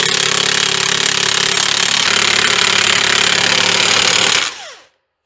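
An impact driver or similar power tool runs continuously, loud and close, for about four and a half seconds while driving a lag bolt into a mounting spot for an air hose reel, then cuts off and winds down abruptly.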